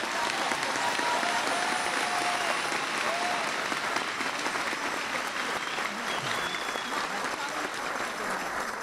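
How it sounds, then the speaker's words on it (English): A church gathering of the Neocatechumenal Way in Colorado applauds a visiting bishop, with a broad, continuous wash of clapping from a large crowd, even in loudness and slightly distant throughout. "We want to give an applause."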